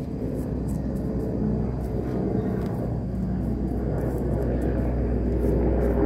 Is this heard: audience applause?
no